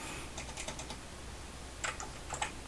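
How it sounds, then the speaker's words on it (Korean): Faint, close clicks of keys on a computer keyboard during a Photoshop lesson: a short burst of taps, then a pause, then a few more isolated keystrokes over a steady low hiss. "이 이름은 마우스로 더블 클릭하신 다음에 키보드로 바꿀 수 있어요"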